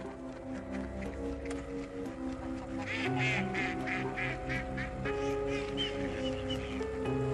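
Ducks quacking in rapid, repeated bursts, fairly loud and close, heard over an ongoing background of music.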